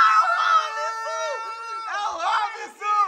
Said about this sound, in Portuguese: Olha a gritaria.